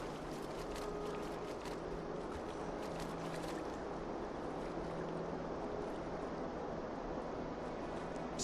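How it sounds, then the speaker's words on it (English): Steady rushing water of a waterfall in the video game Fatekeeper, a constant broadband roar with faint tonal hum, continuous and unbroken throughout. "I hear a waterfall."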